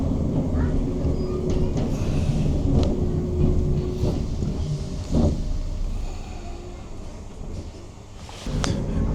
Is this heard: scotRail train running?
yes